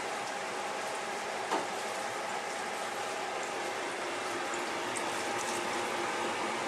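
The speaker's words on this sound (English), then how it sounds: "I'm going to add some water into the dish." Water poured into a dish of oxtail stew, making a steady, continuous rushing hiss with no voices over it.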